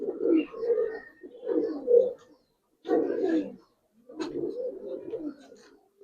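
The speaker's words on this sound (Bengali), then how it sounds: "এটা হলো পাঙ্খি কবুতর" Pankhi pigeons (silver pankhi, a giribaz breed) cooing nearby in four rounded, low bursts separated by short pauses, with no talk over them.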